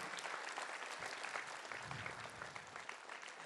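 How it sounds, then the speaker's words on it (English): An annual day audience claps for the sound crew, a steady wash of applause from a large hall that carries on throughout at moderate distance. "A big round of applause to them."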